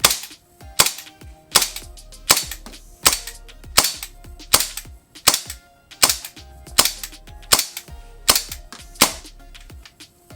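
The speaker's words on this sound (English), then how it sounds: "I just want to show you this, locking back when the mag is empty." A WE P38K airsoft pistol firing about fourteen sharp, evenly spaced cracks close up, each a snappy pop with a short mechanical clack, until the slide locks back on an empty magazine.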